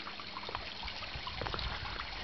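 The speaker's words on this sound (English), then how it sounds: "The dock biofilter is hidden inside this waterfall." Pond waterfall concealing a dock biofilter, a steady broadband trickle and splash of falling water, continuous and fairly near, no voices.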